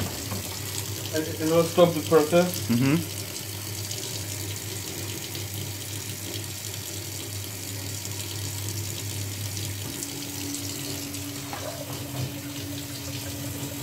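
A tap runs water to rinse a radiographic plate during developing, a steady splashing flow under brief conversation, with a faint hum continuing after the water stops.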